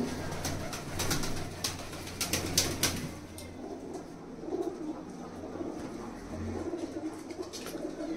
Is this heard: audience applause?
no